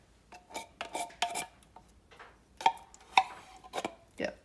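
A spoon scrapes tomato soup out of a regular 10.75-ounce can into a pan, giving a series of short metallic scrapes and clinks spaced irregularly, close and fairly quiet.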